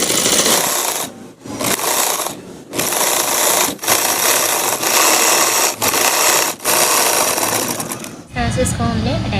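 A sewing machine stitches lining onto a peplum frock in loud, close bursts of rapid whirring, pausing briefly between runs before stopping near the end.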